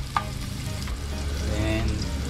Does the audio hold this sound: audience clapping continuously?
no